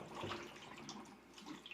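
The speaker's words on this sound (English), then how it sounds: "you can hear water inside of it" Water sloshes inside the drum of a Whirlpool washing machine during disassembly, a faint, close, irregular liquid swish and gurgle lasting under two seconds.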